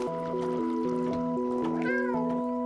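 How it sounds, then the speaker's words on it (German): A cat in the video game Stray meows once, a clear, close mew rising over steady game music with its stepped background melody, and no talk during the call. "Miau."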